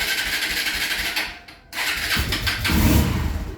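A 2023 Honda XR150L motorcycle with the choke on, its carbureted single-cylinder engine cranking and catching, then dropping out briefly before rumbling up louder and idling roughly, close by with no talk.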